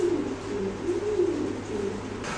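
Fancy pigeons, including a white Mumbai male, coo in low, rolling, repeated phrases close by, continuous and moderately loud with no talking.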